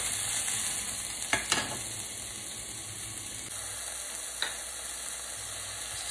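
Button mushrooms frying in a pan give a steady, moderate sizzle with faint crackle, interrupted by a few soft scraping stirs from a utensil, heard close without any talking.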